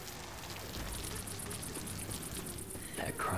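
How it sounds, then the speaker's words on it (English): Heavy, steady rain pours down throughout in the zombie shooter Left 4 Dead 2, a dense continuous hiss with faint voices mixed in and a brief higher-pitched cry near the end. "This rain ain't letting up."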